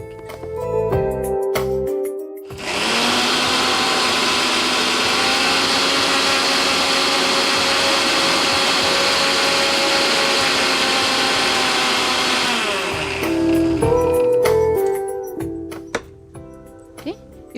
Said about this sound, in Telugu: ఇప్పుడు మనం దీన్ని మిక్సీ పట్టేస్తాం.